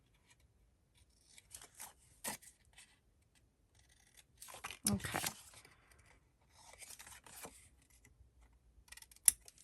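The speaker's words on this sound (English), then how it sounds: "I'm going to grab my scissors and we're going to just miter these." Scissors snipping and mitering folded paper card pieces for a pop-up panel card, quiet close cuts in short bursts with a few louder snips and paper rustling, a brief spoken word in between.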